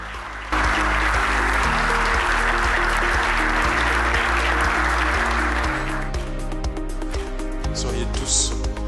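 An audience at an event applauds in sustained, loud clapping under a steady background tone, the applause thinning toward the end.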